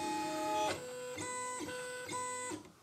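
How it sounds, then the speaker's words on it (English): Stepper motors of an Aufero Laser 2 engraver head whine and buzz in short tonal bursts as it traces a framing rectangle around a logo, with four distinct moves in quick succession, fairly close and alone. "This will move the laser to where the logo is in the software and make a circle or square"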